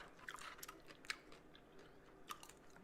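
Faint close-up chewing and crunching of vegan food during a mukbang, with irregular soft bites and mouth sounds and no talking.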